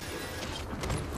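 Weapon reload in Apex Legends, a short mechanical clatter of clicks and ratcheting metal, steady and moderately quiet with no talk over it.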